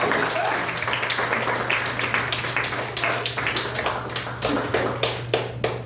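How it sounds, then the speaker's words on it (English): Audience at a live comedy show applauds after a scene ends, with sharp, fairly close claps in an uneven pattern over a steady low hum. "Give him a round of applause."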